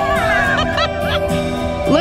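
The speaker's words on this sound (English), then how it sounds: "Don't forget the duck here." A duck honks repeatedly at a harbor Halloween paddle event in California, loud nasal calls in quick succession close by, with people talking over the calls.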